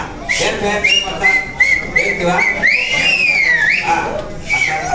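A person at an app launch event whistles a series of loud, sharp notes, some short and some long and sliding, against background crowd noise and talk.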